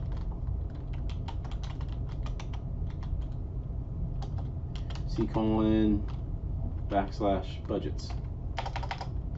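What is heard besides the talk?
typing a cipher command on a computer keyboard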